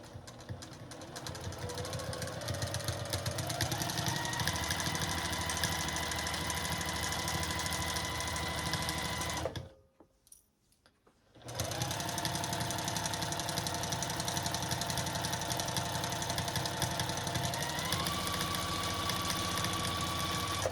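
A sewing machine stitches soft minky fabric for a Halloween ghost pillow, running in a steady continuous whir that stops briefly near the middle and then resumes at the same close, loud, even pace.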